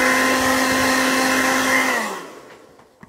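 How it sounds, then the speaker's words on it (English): A hair dryer blows on a circuit board with a steady high whine and rushing air, then switches off and spins down into near silence. "Just one more time with a hairdryer."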